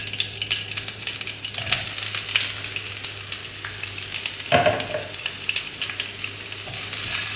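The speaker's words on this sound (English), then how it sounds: "And stir fry this for a little while until the onion is a little bit soft." Garlic, onion and curry leaves stir frying in a wok for Malaysian Maggi goreng, a loud steady sizzle broken by spatula scrapes and clatters, with no talking.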